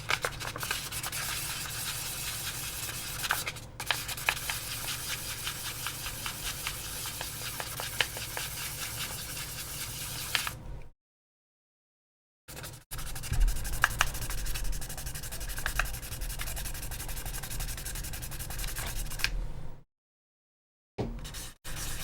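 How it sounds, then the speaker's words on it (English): An AirPods Pro case is sanded with 800 grit sandpaper in a close, continuous rubbing scrape of rapid strokes, broken by two brief silent gaps. "We're doing 800 grit here."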